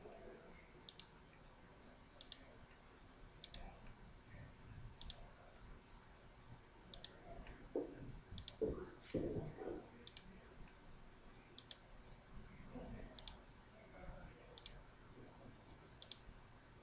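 Computer mouse clicks ring out at regular intervals, faint and sharp, over a low room hum with some soft handling noise.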